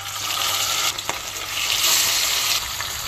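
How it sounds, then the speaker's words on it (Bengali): Fish fries in hot oil in a pan, a loud, bright, continuous sizzle that swells and eases, with a brief knock partway through and no talking. "মাছটা 5-6 মিনিট ভেজে নেব।"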